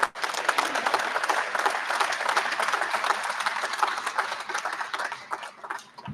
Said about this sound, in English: Would you give Jim a round of applause?